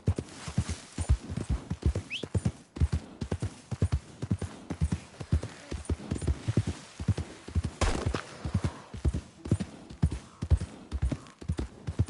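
Steady rhythmic clip-clop of horse hooves trotting in a PS4 video game, close and clear, with a brief whinny early on and no talking.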